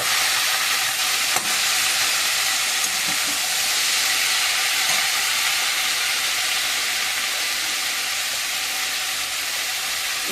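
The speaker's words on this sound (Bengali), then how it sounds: "কলার মোচাটা বসিয়ে দেবো।" Banana flower frying in hot oil with green chillies, onion, garlic and spices in a kadai, giving a steady, loud, continuous sizzle with light stirring throughout and no talk.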